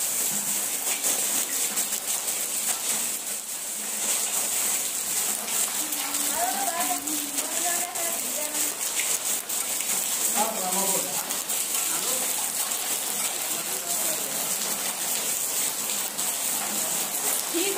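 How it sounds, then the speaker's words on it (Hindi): Steady rain falling outdoors during a monsoon shower, a continuous broad hiss throughout, with a voice speaking faintly underneath at times. "तब पता चलेगा आपको कैसी बारिश आ रही है।"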